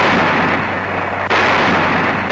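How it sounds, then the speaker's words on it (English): US and British tank destroyers fire at point-blank range in 1943 North Africa, a loud continuous roar of blasts with a sharp renewed burst partway through, dense and close. "United States and British tank destroyers blasting at point-blank range."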